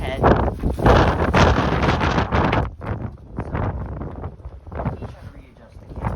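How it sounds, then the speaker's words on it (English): Strong wind buffets an outdoor microphone in loud, continuous gusts that roar and rumble, briefly easing before surging again. "it's really windy out"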